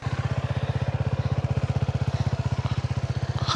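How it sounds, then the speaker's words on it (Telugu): A 2026 Suzuki V-Strom SX 250 motorcycle idling after starting, a steady rapid low thumping exhaust beat with an even rhythm, close and loud, without talking. "ఒకసారి మనము బండి స్టార్ట్ చేసి చూద్దాము"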